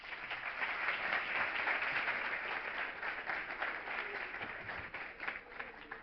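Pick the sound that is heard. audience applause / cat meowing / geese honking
audience applause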